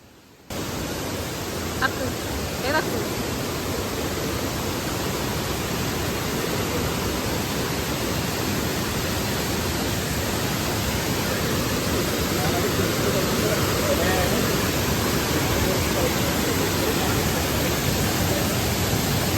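Steady, loud rushing water fills the whole clip, a dense broadband roar of a powerful waterfall close by, with no pauses.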